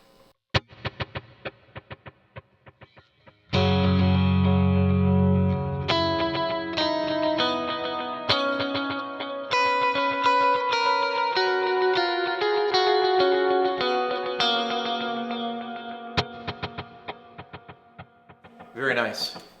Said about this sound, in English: So what we've got is an eighth and a dotted eighth.